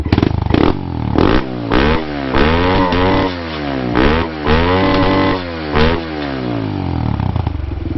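A 2017 Kawasaki KLX110L dirt bike engine with a BBR rev box revs hard and high, climbing and dropping repeatedly in loud rising whines, close by with no talking.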